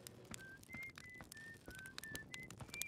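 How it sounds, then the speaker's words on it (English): A character in the video game Outer Wilds whistles a slow, faint melody of short rising and falling notes, backed by soft scattered clicks and rustles. "Hey, there's somebody whistling."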